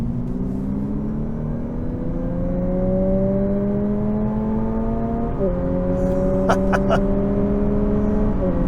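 A 2023 Lexus UX 250h hybrid accelerating in Sport Plus mode with active sound control on, a smooth engine tone climbing steadily, briefly dipping as it shifts, then rising again, heard from inside the cabin.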